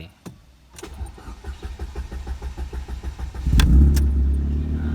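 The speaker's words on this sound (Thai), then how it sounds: "เดี๋ยวเรามาลองสตาร์ทเครื่องดูนะครับ" A 2010 Ford Fiesta 1.6S cranks with a steady rapid starter whirr for several seconds, then catches and fires into a louder, rougher idle close by, with a couple of sharp clicks along the way.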